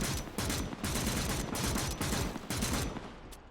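Dense, continuous automatic machine gun fire from a World War II Eastern Front battle in Call to Arms, loud and sustained with rapid overlapping bursts and no pauses throughout.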